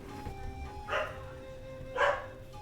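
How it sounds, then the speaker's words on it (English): A household dog barks twice, about a second apart, each bark short and moderately loud against a quiet indoor room with a faint steady hum. "Yeah, you heard my dog. You heard my doggy."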